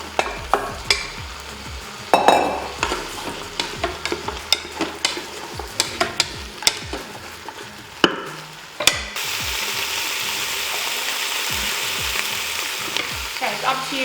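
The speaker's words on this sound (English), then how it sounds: "It's up to you how long you want to saute the veggies for" Vegetables for chilli con carne sauté in a CrockPot Express XL. A utensil clatters and scrapes irregularly for several seconds, then a loud, steady sizzle takes over.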